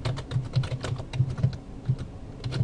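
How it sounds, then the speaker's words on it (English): Quick irregular keystrokes sound close and distinct on a computer keyboard as text is typed into an Ubuntu terminal, in short bursts with brief pauses and no voices. "So we'll type that in."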